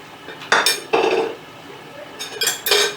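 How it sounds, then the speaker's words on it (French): Seafood pastilla filling with coriander and grated lemon zest being mixed in a bowl, a few distinct clinks and scrapes of a utensil against the bowl, close and fairly loud, with quiet pauses between them. "Là, je mélange bien le tout."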